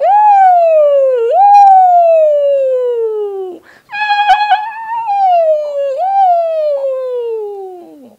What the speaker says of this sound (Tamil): கால் ஆஃப் டியூட்டி நேர்ல பார்த்த மாதிரி ஆம்புலன்ஸ் போலீஸ்லாம் வருதுங்க